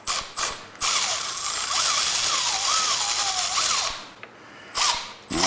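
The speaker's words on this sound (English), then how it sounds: "So we're going to remove the switch housing screws first." A power driver whirs while backing screws out of a motorcycle handlebar switch housing, one loud sustained run of about three seconds with wavering pitch, framed by short bursts and brief quiet gaps.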